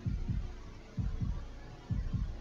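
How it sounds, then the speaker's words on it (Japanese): Heartbeat in the horror game Shadow Corridor: three evenly spaced lub-dub double thumps, deep and muffled, over a low constant hum, with no voices. "心音は鳴りやまない"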